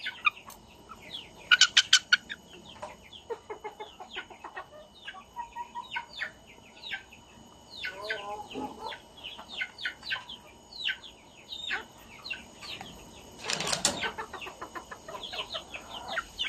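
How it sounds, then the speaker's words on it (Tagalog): Two-month-old upgraded native chickens and three-month-old Rhode Island Red chickens chirp and cheep in steady overlapping bursts nearby, with a few louder clucking flurries standing out. "So meron din tayong tag 2 months old na mga upgraded native chicken."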